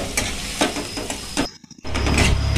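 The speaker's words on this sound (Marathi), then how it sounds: "आणि चांगला असं परतून घेऊया" Onion-garlic masala sizzles in oil in a pan while being stirred for papad chicken: loud frying hiss broken by repeated scraping strokes, a brief near-silent pause midway, then steady sizzling again.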